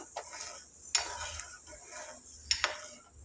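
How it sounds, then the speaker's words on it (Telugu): Corn semolina stirred by hand into water in a pot, a few wet swishing strokes with light utensil clinks against the pot, quiet and close, no speech. "ఒక చేతితో కలుపుకుంటూ ఒక చేతితో స్లోగా ఇలా వేసుకోవాలి ఫ్రెండ్స్ ఉండలు కట్టకుండా"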